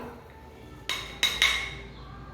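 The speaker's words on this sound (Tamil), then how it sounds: "இதை இப்படி கல்லில் நம்ம தட்டி எடுத்துக்கலாம்" Three sharp taps of a stone crushing garlic, cumin and turmeric for a spinach stem kadaiyal, each knock ringing briefly in a quiet kitchen.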